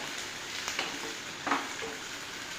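Food frying in a pan after the lid is lifted, a soft steady sizzle with a couple of faint scraping strokes as it is stirred, quiet and close with no talk.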